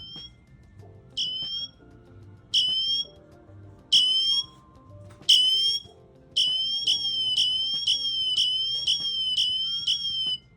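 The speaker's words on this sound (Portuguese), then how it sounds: "se você está numa situação de perigo, ele tem um alarme ali que é bem bacana" Sharp electronic chirping emergency siren from an Apple Watch Ultra, several short bursts with pauses, then a rapid continuous run of repeated chirps, close and loud, with no voices.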